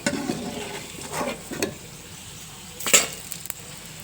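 Food frying in a pan for a Kerala dish is stirred with a utensil, a soft sizzle under several scraping strokes and a sharp metallic clink near the middle.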